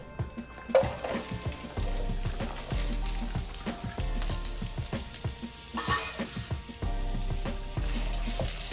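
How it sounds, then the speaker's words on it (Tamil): Onions sizzle and fry in hot sesame oil for a fish curry, a steady crackling hiss with stirring scrapes and brief clatters close by. "ஊற்றி வெங்காயம் வந்து தாளிக்க போகிறோம்"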